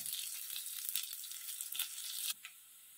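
Chopped garlic sizzles in hot oil in a pan over a medium flame for a star fruit chutney, a steady close crackle that cuts off abruptly near the end.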